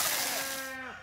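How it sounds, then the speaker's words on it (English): A single sheep bleats loudly and close by, one drawn-out wavering call that trails off at the end. "we're going to go feed these sheep and probably water them as well, because they sound thirsty"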